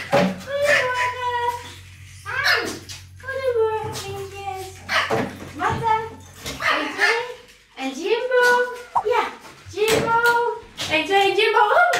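Pomeranian dogs bark again and again in the morning, with yaps and whines in repeated bursts, close and loud, mixed with people talking.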